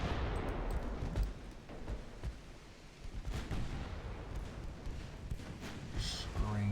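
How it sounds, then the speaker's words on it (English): Warship guns fire in the naval video game Ultimate Admiral Dreadnoughts, a rolling series of heavy booms and thuds over a low rumble that stays fairly quiet throughout. "All ships target the 2nd Russian warship. Fire at will, torpedoes off."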